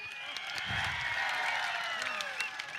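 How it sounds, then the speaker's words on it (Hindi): An audience applauding at a 2017 Gaushala Raksha award ceremony in Ladwa. The clapping is a faint, dense, continuous patter heard from a distance, with a murmur of voices mixed in. "एक बार जोर से तालियां।"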